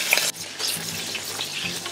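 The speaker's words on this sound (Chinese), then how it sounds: "炒一炒香佢" Scallion, ginger, shallot and garlic stir-fried in hot oil in a clay pot, with a steady sizzle and crackle plus scraping stirring sounds, close and alone.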